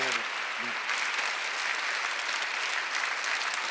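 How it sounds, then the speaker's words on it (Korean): A church congregation at a Sunday worship service applauds loudly and steadily, a dense wash of clapping that fills the hall after a brief spoken word at the start. "박수 좀 세게 쳐봐요"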